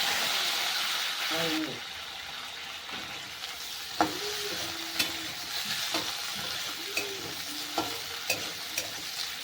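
Two dried red chillies and a spoonful of cumin crackle in hot oil with a dense, even sizzle and sharp spatter pops, while a voice speaks softly in the background.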